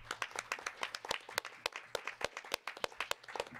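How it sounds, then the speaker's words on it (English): An audience claps for conference panelists, a thin spread of hand claps with sharp irregular slaps, fairly faint and heard from a distance in a meeting room, with no speech over it. "A round of applause for our panelists."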